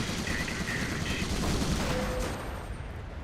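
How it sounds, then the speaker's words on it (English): A stonk mortar fires during a Company of Heroes 2 battle, with dense, continuous rumbling gunfire and explosions filling the whole stretch under the busy game soundscape. "It is a stonk mortar."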